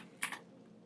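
Computer keyboard typing in a design program, heard as a couple of quick, close, light key clicks over a quiet background.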